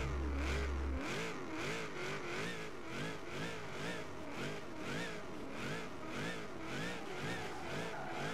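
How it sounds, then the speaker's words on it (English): A supercharged car engine in Forza Horizon 3 revs hard and steadily, its pitch rising and falling in repeated sweeps over a loud, continuous drone with a high supercharger whine, alone without any talk. "God, the supercharger on this thing."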